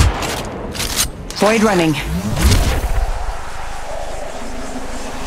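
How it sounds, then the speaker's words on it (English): Gunfire in the mobile battle royale Apex Legends Mobile, with bursts of shots and booms heard under a player's voice lines amid busy game noise. "I am taking fire, friends"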